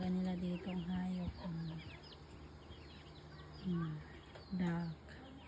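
Pet ducks at a rural home give repeated low, nasal quacks and calls close by. The calls come in short bursts over a soft background murmur.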